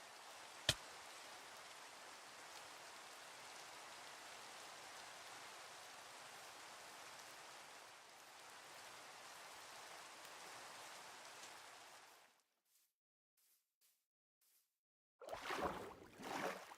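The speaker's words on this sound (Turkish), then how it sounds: "Hava da yağmurlu." Rain falling in the video game Minecraft gives a soft, even hiss of steady rainfall for about twelve seconds. It then cuts to near silence before a brief burst of noise returns.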